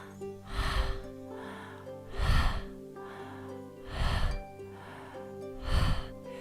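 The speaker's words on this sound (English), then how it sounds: "as you pant that the belly moves in on the exhale and the belly moves out on the inhale" Slow, heavy yoga pranayama breaths with a deep exhale-inhale cycle roughly every two seconds, belly pulling in on the exhale, close and clear against a faint steady background tone.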